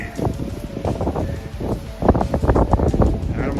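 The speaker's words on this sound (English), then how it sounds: "with the wind is blowing as hard as it is" Strong wind buffets the microphone outdoors on a rainy fishing trip, a steady loud rumble with gusts swelling and rushing throughout, stronger in the second half, with no voices.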